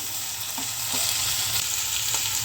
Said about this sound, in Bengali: খুব ভালো করে নেড়ে দিই